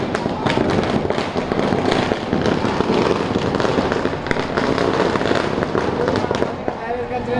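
Dense, continuous crackling bursts of firecrackers going off nonstop at a bus stand celebration, loud and close, with a crowd's voices mixed underneath.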